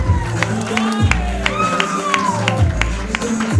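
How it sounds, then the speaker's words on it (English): A comedy show audience claps and cheers, a dense crowd roar with whoops under a loud voice over a PA and music, continuing throughout. "let's get your hands warm, clapping and cheering"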